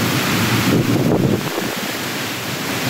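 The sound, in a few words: stormy wind with rain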